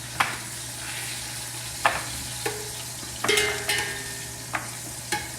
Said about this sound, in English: my meatballs are cooking, my oil's nice and hot